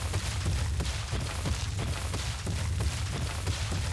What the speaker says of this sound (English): That is the sound of a charging Carno.